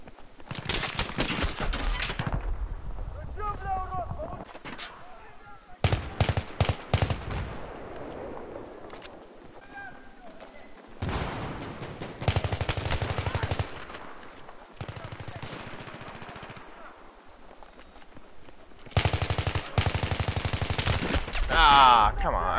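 Bursts of automatic gunfire from the Battlefield 3 video game come in several loud, dense volleys separated by quieter gaps, with faint talk in between.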